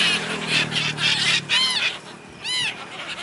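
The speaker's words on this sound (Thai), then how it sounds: "ให้อาหารนกนางนวลนะฮะ โอ้มันมารอให้อาหารรอ อาหารจากคนอยู่ตรงนี้นี่" Seagulls gather at Bang Pu, Thailand, waiting to be fed by people, giving loud, close squealing calls over steady outdoor noise and a crowd murmur.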